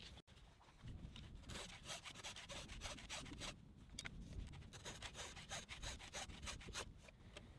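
A hand file rasps across a chainsaw chain tooth in short, rhythmic strokes, close and clear with a steady gritty scrape and no talking.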